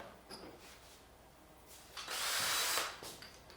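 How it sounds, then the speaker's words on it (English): A large power drill with a large drill bit whirs through material in one brief burst, rising and fading after a few softer scraping sounds. "I just use like a biggest drill bit you got. We'll make a big hole"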